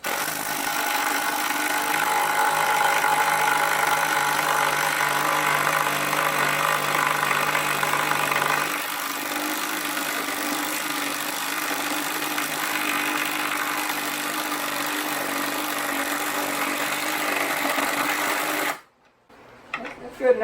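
Cordless impact driver running 1/4 inch bolts, a steady loud whirring buzz that holds for about 19 seconds, changing pitch partway through, then cuts off abruptly near the end. A voice can be heard over it.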